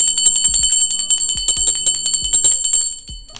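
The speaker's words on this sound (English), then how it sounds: "I'm gonna ring the bell for the ancestors" A ritual bell rung for the ancestors, loud bright metallic ringing struck repeatedly in a fast rattling rhythm with sustained high overtones, close up, fading toward the end.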